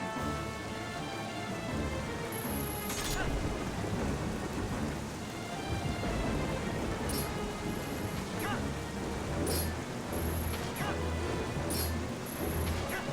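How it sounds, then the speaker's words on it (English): Heavy rain pours in the video game Zelda Twilight Princess, a steady dense roar broken by rumbling thunder, with brief high electronic tones cutting in now and then. "It is pissing rain out the sky right now."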